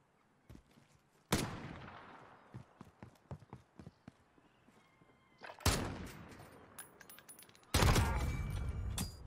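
Gunfire in a video game gunfight: three loud, dense bursts of shots, with scattered lighter clicks and taps in the quieter stretches between them.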